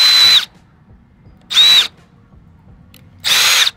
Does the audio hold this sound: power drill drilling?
yes